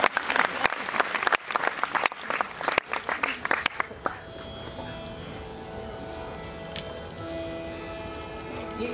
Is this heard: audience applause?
yes